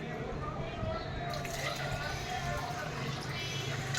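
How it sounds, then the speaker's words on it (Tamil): Water poured into a glass holding lemon and mint cubes for a mint lemon drink, a steady liquid trickle running alongside continuous background noise. "ஒரு அரை டம்ளர் தண்ணி விட்டுருக்கேன்."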